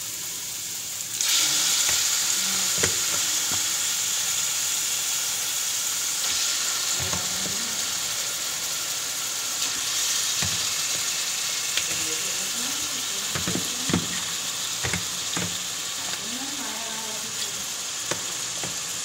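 Chicken frying in a pan for a chicken cream dish: a steady, loud sizzle runs throughout, with scattered clinks and scraping stirs on top.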